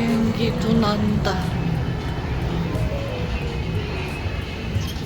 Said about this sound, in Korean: 비행기도 난다.